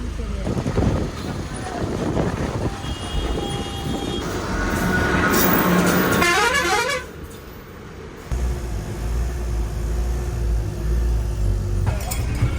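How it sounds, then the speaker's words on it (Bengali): A bus horn blares loudly and repeatedly from close by on a busy road, over rumbling traffic and engine noise, ending as the bus nears a stand. "বাস দেখো জোরে জোরে হর্ন দিচ্ছে"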